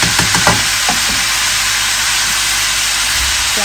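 Onions frying in oil for Afghani pulao, a steady loud broadband sizzle that holds evenly throughout, with a few faint stirring knocks near the start.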